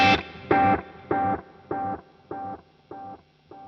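A guitar note played through a Boss Katana amp's DC-30 echo set to a 600 ms delay, producing six or seven evenly spaced repeats that fade steadily and sound dark and warm, each one softer than the last.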